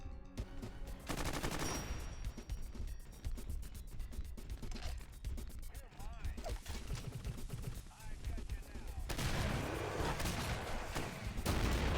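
Dense, continuous gunfire in the video game Doom, with rapid bursts and sharp shots packed together. Heavy layers of game noise and music run underneath for the whole stretch.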